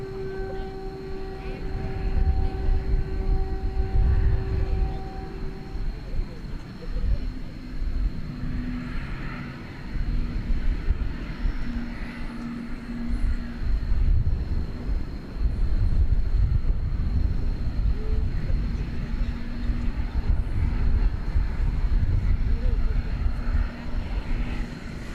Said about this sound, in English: we've got a Spirit Airbus A320 coming in from Pensacola, Florida